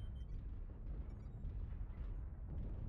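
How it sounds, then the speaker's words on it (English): Heavy artillery strike explosions in a mech combat video game, a dense, continuous low rumbling barrage of booms that stays loud throughout with no pauses. "Artillery strike activated."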